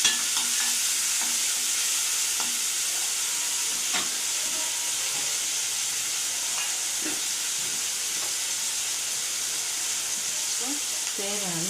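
Chopped ripe tomatoes fry and get stirred in a pan for bread egg kothu, a steady close sizzle with intermittent scraping stir sounds throughout.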